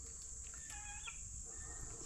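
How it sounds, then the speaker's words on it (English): Chickens in a backyard run at feeding time, with guinea fowl nearby, give soft, sparse clucks and short calls. The calls are moderately distant over a steady background hum, and no one talks. "Look at that chicken stuck in the run."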